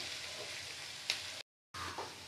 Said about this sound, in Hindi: प्याज को लाइट गोल्डन कलर होने तक इसे फ्राई करना है।